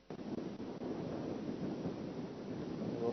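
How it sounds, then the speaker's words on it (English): Steady wind roaring across the microphone outdoors on a safari walk, a broad continuous rush that holds for about three seconds with no talk. "Bit of a wind coming up there."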